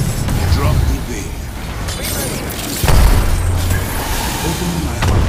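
A grenade explosion in Apex Legends, heavy booms with rumbling low-end bursts amid cluttered battle noise and mechanical clatter, with a voice talking over it.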